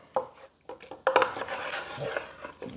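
Tomato sauce for a lasagna is stirred in a pot, with a few separate scraping strokes and knocks of a utensil against the pot. The strokes come in short bursts with brief quiet gaps between them.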